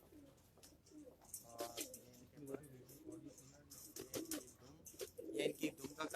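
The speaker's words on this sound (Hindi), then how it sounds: "ये हमारे लाल जालदार कबूतर है" Red netted (laal jaaldar) pigeons coo softly in a loft amid scattered chirps and wing flutters, faint and close, with someone talking over them.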